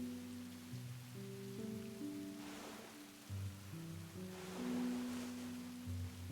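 Steady rain patters softly in the Tsukihime Remake visual novel, a continuous low hiss of rainfall under gentle background music with sustained tones.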